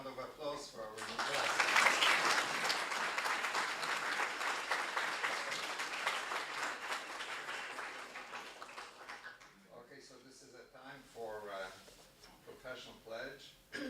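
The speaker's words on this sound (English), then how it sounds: "congratulations and a round of applause for our new class." Audience applause at a dental school white coat ceremony, loud sustained clapping for about nine seconds that fades out, followed by a speaker talking.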